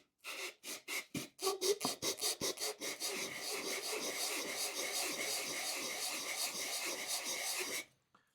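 Scrap wood sanded by hand with 80 grit sandpaper: quick separate rasping strokes at first, then a continuous close scratching rub that stops abruptly.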